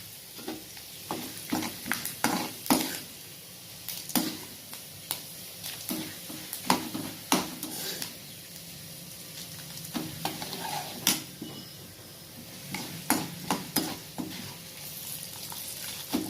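Lentils sizzle and crackle in hot oil, with repeated scraping stirs of a spoon against the pan at an irregular rhythm.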